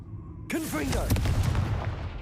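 A Confringo fire spell bursts in Hogwarts Legacy: a sudden loud blast followed by a sustained roaring, crackling rumble, with a voice over it.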